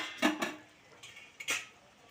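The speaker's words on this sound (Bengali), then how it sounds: "আমি আর একটু নেড়ে চেড়ে মিশিয়ে দিচ্ছি" A utensil stirring Kolkata-style prawn malai curry with ghee in a pan: a few soft metallic clinks and scrapes, two close together and then two more after a pause, over a quiet background.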